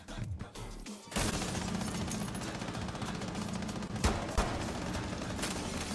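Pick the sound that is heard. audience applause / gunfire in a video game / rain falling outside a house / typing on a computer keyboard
gunfire in a video game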